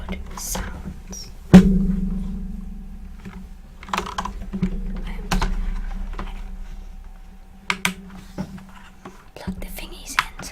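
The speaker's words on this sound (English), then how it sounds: "I'm gonna do some keyboard sounds." Tapping on a borrowed light-up computer keyboard gives scattered clicks and key presses, some sharp and isolated, others in short bursts, close to the microphone over a steady low hum, with soft whispering between them.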